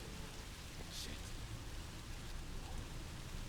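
Rain falls steadily in the horror video game Song of Horror, a soft, continuous hiss of drops outdoors by a garden, quiet and even, with a brief muttered word over it.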